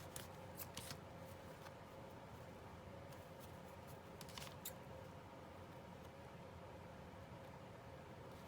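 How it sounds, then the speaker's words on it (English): Faint, quiet snipping of small scissors trimming little threads on a craft piece, a few quick cuts clustered early and a couple more later, against a soft steady background hiss. "let's get these little threads cut, if I can, with these horrible scissors"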